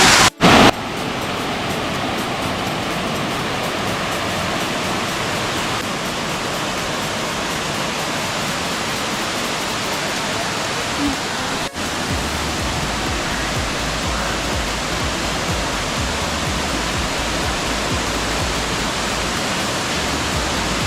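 Areekal waterfall pours in a steady, dense roar close by, unbroken for the whole stretch, with only a brief knock near the start and a slight shift midway.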